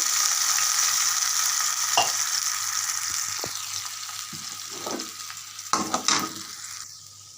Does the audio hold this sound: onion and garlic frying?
yes